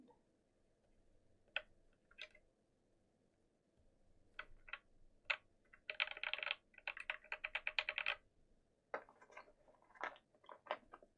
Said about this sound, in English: New keycaps, so tight fitting.